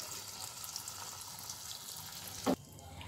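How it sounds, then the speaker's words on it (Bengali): A drop of semolina malpua batter goes into hot oil, and a steady close sizzle builds to a short sharp crackling burst before settling back to a quieter fizz. "সামান্য একটু ব্যাটারটা দিয়ে দেখি যে ব্যাটারটা উপরে উঠে আসছে কিনা"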